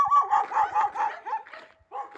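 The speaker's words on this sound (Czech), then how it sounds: "naši klasika pejskové" Several dogs yip and bark in quick bursts at a Christmas display in Štěpánov nad Svratkou, fairly close and lively, with a brief pause before another burst at the end.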